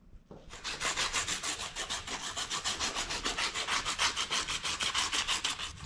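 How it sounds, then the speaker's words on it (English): Gunk being sanded off the battery connections of a Ford Econoline van, a steady rhythmic scratchy rubbing of quick back-and-forth strokes, close and moderately loud, with no talking. "So we're just going to sand this down a little bit and then connect this all together."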